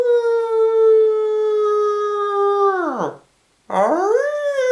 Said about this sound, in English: howling werewolves and the sounds of ghosts